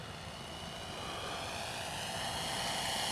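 RC Pietenpol Air Camper model plane with an ASP 5cc four-stroke engine making a slow flyby, a continuous steady engine drone that builds slightly in loudness as it passes.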